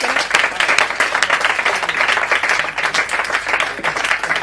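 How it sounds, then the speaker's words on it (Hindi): An audience at a comedy stage show claps loudly and steadily to welcome a performer, a dense continuous burst of applause from a sizable crowd. "जोरदार तालियां बजाकर भारती जी को आमंत्रित करें"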